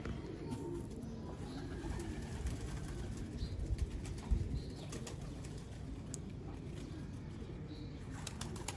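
Pigeons in a loft in Sialkot coo softly, with a brief flutter of wings, faint and somewhat distant over steady outdoor background noise.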